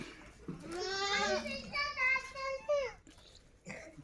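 Several wavering, nasal bleats from Beetal and Sirohi goats close by, overlapping in a short burst and then trailing off.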